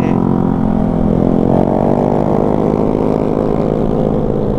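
Continuous engine roar of motorcycles speeding past on a narrow road, loud and close, with a rising and falling whine as they pass.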